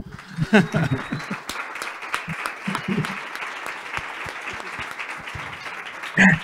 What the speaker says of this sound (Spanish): también aquí hay un aplauso para el fotoperiodista